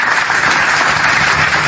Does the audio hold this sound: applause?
yes